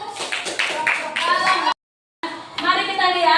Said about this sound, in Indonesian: Kelompok 2 beri tepuk tangan.